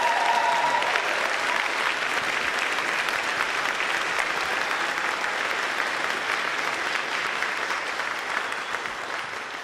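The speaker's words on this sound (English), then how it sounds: "Let's have a big round of applause, please, for the candidate for Central Auckland, the co-leader of the Greens." A debate audience in Wellington applauds the Greens co-leader and Central Auckland candidate, dense sustained clapping from a large crowd, loud and even, slowly tapering toward the end.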